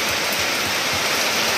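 Rain pours steadily, a close, dense hiss of falling water with no voices.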